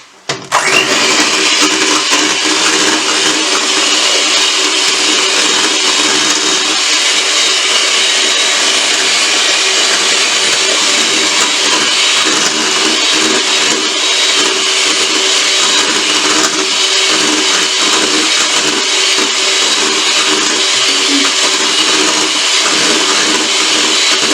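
An electric mixer whips egg whites toward stiff peaks, a loud, steady high-speed whir that runs on without a break.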